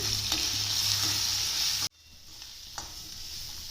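Coconut, fennel and spices dry-roasting in a pan for a chicken curry, a steady close sizzle with scraping stirs that cuts off abruptly halfway, followed by quieter faint crackling and an occasional utensil scrape.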